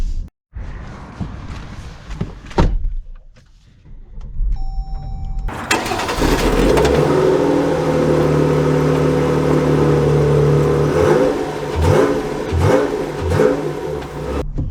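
A Dodge Durango muscle-style sport SUV starts quietly, then its engine surges into a loud, sustained acceleration while driving, the pitch climbing and holding before easing into gear-shift dips near the end.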